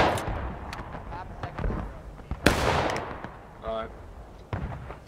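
Musket gunfire from the Civil War shooter War of Rights: several sharp shots crack out, one loud near blast among more distant reports, with players talking over the fighting.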